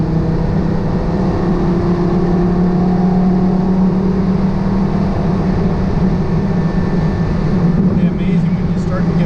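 A Porsche Carrera GT engine drones loudly and steadily from inside the car as it gets moving, a continuous throaty hum with a faint rising tone late on.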